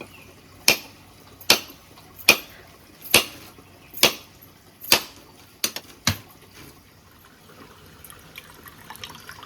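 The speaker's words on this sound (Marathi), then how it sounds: "कोयतीत नारळ सोलायचा कसा तो" A coconut struck and husked with a koyta blade, sounding as a steady series of sharp chopping thwacks at regular intervals, then a quick pair of lighter hits before everything fades to quiet.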